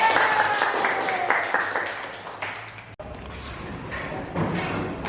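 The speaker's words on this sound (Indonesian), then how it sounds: "Tepuk tangan untuk Aisyah." Schoolchildren in a classroom clapping for a classmate, a short burst of hand claps that fades out, then a thump and scattered taps with faint voices in the room.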